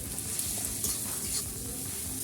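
Ground spices (salt, turmeric, Kashmiri chilli, cumin and coriander powder) with sugar sizzle steadily in hot oil as they are stirred and sautéed for an aloo paratha filling, a dense continuous fry with no talking.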